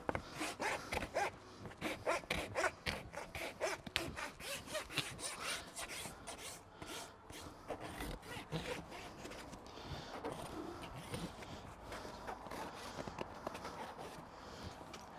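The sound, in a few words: farrier's rasp filing a horse's hoof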